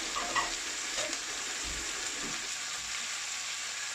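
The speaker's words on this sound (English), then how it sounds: "Just give that a stir. That can all get nice and cooked." Steak pieces frying in a pan, a soft steady sizzle with light stirring scrapes, quiet and continuous with no talking.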